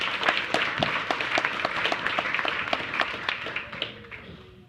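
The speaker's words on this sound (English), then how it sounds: "Please, let's give them a round of applause." An audience claps steadily at a Delta Sigma Theta Sorority chapter gathering, dense clapping close and full, tapering off toward the end.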